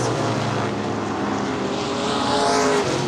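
Modified race cars roar around a dirt speedway through turns three and four, a loud sustained engine drone with shifting pitch as the pack passes close by.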